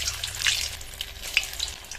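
Bread pakora frying in moderately hot oil over a low-to-medium flame, a steady soft sizzle and bubbling with small crackling pops, close and fairly quiet, with no voices.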